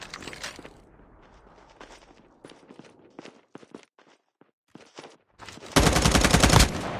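Video game gunfire in Call of Duty: scattered single shots and quieter footstep-like clicks, then a loud sustained automatic burst near the end.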